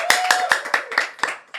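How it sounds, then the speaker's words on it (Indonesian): Yunus gets a short burst of audience clapping, about seven distinct close claps in an uneven rhythm, loud and dry, with a faint vocal tone under the first half. "Tepuk tangan dong sekali lagi dong buat Yunus."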